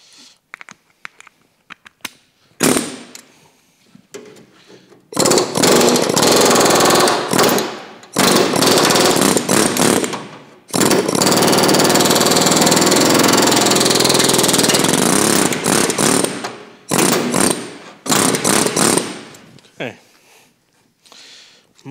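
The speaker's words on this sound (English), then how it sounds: "the air hammer is just a wee bit brutal" Loud, sustained bursts of a pneumatic air chisel cutting car body spot welds, a harsh rapid rattle running several seconds at a time, separated by brief pauses with quieter clanks.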